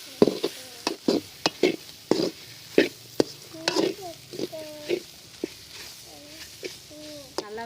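Sharp scraping stirs of a spatula in a pan of sautéing soy chunks with garam masala for a village-style egg gravy, spaced irregularly, with a soft sizzle underneath and a voice talking between strokes.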